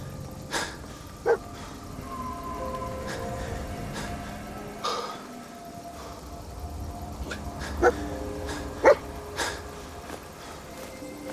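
Dogmeat, the dog in Fallout 4, gives scattered short barks and yips against a low game ambience, with several sharp, brief barks spaced unevenly and moderately near.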